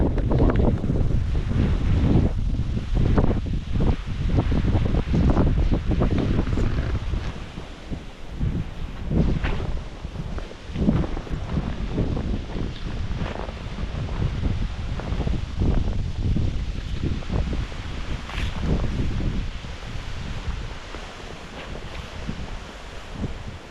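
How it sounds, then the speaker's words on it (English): Steady wind gusting across an open, drained fishpond beside a river, a loud broadband roar buffeting the microphone throughout, easing slightly partway through. "the wind has a little bit gone down"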